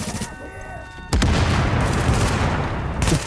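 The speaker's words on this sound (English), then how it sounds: "So you hit their pack, watch, ready?" Gunfire in The Division, aimed at enemies' air packs, which burst into a sudden loud explosion that rolls on as a sustained roar after a quieter opening.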